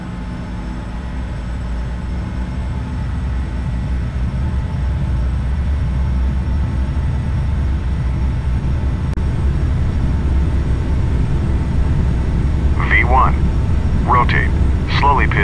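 Jet engine in a flight simulator spooling up toward full thrust, a dense, rising roar that grows steadily louder over about fifteen seconds, with a few brief beeping tones near the end.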